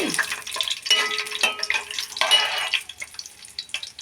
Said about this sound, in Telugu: అప్పుడు వంకాయ ముక్కలు వేస్తానండి నూనెలో మగ్గబెట్టి